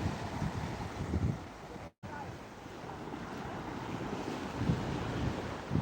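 Steady roar of surf washing onto the shore, broad and continuous with wind buffeting the microphone; a brief dropout interrupts it near the start.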